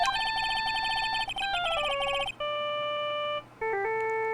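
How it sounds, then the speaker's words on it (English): Electronic phone ringtone from the Phoenix Wright Ace Attorney video game, a bright synthesized melody of sustained stepped tones repeating in phrases, fairly loud and alone without talk. "And it was this ringtone that caused it."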